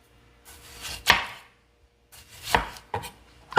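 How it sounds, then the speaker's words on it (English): A knife chops a tomato on a cutting board in three distinct sharp strikes: one near the start, then two close together later, with quiet between them. "Okay, next I got a nice tomato here. I'm gonna chop up about a half of a cup."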